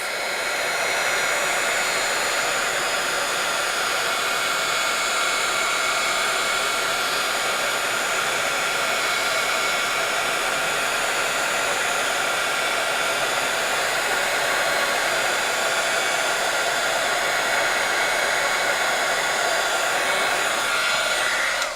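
A heat tool blows hot air steadily over Ranger Ultra Fine Clear Embossing Powder on a card, a constant loud, close whooshing hum that carries on without a break for the whole stretch.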